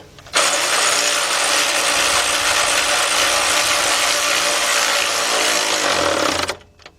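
A ratchet backing out the top bolt on a Lexus LS460 starter, one loud, close, continuous run of rapid clicking lasting about six seconds before it stops abruptly.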